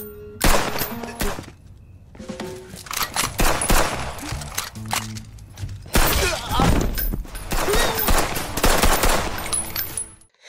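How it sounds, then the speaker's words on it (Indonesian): Rapid bursts of gunfire sound during shooting practice in a war film, with dense automatic fire and clusters of sharp shots in several loud, sustained volleys broken by brief pauses, along with impacts and metallic clatter. "Lin Shen berlatih dulu menembak bersama manajer Jian."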